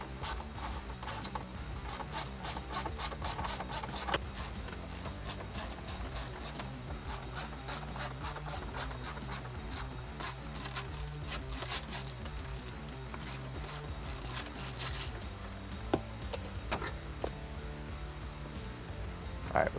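A ratchet wrench backs out 9/32 screws from the sides of a car radio during a navigation unit install, a quiet, rapid clicking that runs in long continuous stretches with brief pauses.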